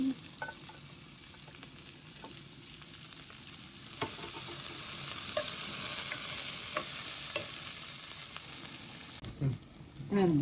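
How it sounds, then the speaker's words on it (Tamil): Onions frying in a pan for a simple chicken curry, a steady hissing sizzle with occasional light stirring clicks, close and moderately quiet, with no speech. "வெங்காயம் போடுங்க."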